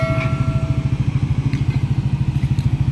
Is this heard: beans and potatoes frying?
no